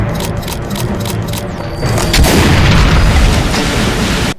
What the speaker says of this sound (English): It can also throw slow swirling legendary plasmatic shots.